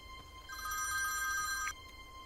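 An old-style telephone bell rings late at night in a Hindi action film, one bright trilling ring of about a second over a quiet room.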